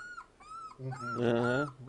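A young tricolor puppy whimpers and yips in short high whines, building to a longer whining cry, close by.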